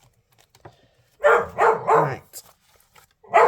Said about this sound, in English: Excuse the dog for barking